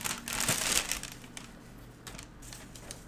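Tissue paper from an Air Jordan 2/3 sneaker box crumpling close up, a dense crinkling burst at first that settles into lighter, scattered rustles.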